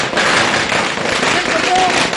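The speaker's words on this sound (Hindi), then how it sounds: "ढोल लगाने के साथ पटाखे जला करके जीत का जश्न कांग्रेस भवन में मनाया जा रहा है।" Firecrackers pop and crackle continuously at a Congress party victory celebration in Raipur, Chhattisgarh, blending with loud crowd noise and drumming in a dense outdoor din, with voices mixed into the roar.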